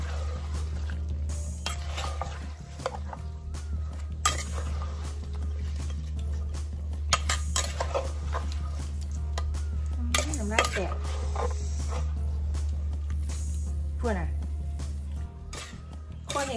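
Som tam salad with fresh shrimp, salmon and stink beans being stirred and tossed, light clinking of utensil against bowl recurring under steady talk over a constant low hum.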